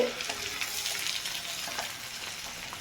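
Tomatoes and vegetables sizzle in a frying pan as they are stirred, a soft, continuous hiss with light scraping, close and fairly quiet, no talk.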